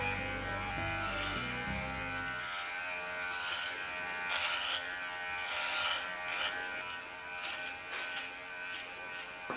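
A dog grooming clipper buzzes on its turbo setting while trimming a dog's coat, a steady, close electric whir with a shifting tone as it moves through the fur.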